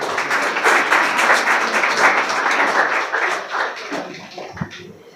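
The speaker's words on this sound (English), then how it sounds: "Everyone clap for her again." A school audience at a confidence-building programme gives a speaker a round of applause, dense close clapping that holds steady and then thins out and fades in the last second.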